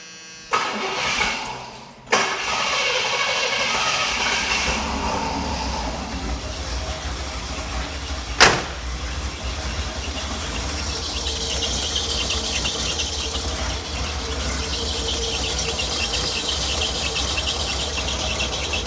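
A 1976 Cadillac Eldorado cranks briefly without its choke, catches, and settles into a loud, steady idle that continues under a faint sharp click midway; no one talks.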